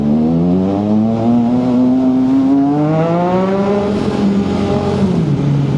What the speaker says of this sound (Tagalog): Grabe, traffic pa rin.